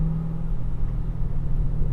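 Steady low rumble from the LS V8 engine of a right-hand-drive 2013 Chevrolet Camaro ZL1 while driving, a constant drone heard from inside with no talk.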